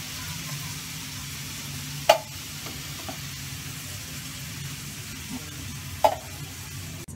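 Cubed chicken and mushrooms sizzling steadily in a pan, a constant close frying hiss with a couple of sharp clinks from stirring.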